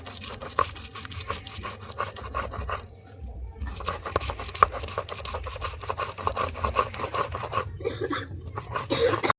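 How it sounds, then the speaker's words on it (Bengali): Ginger being ground on a sil stone slab for a vegetarian potol posto, with steady rough rasping and rubbing strokes repeating close by throughout. "এবারে আমি আদাটাকে বেটে নিচ্ছি"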